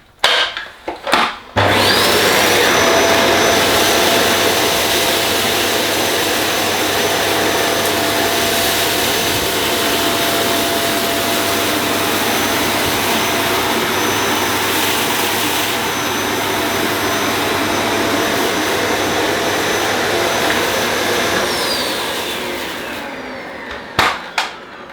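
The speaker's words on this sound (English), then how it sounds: "I'm going to use it with the brush bar off" A Dyson Cinetic Big Ball Animal vacuum cleaner runs with its brush bar off on suction only, a loud steady whirring roar that starts abruptly, holds for about twenty seconds, then winds down with a few bumps.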